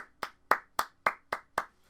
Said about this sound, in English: We always gotta clap at the end